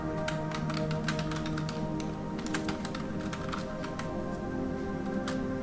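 Quick, irregular clicks of fingers typing on a computer keyboard while entering a message in an Excel spreadsheet, light and close against a low steady hum.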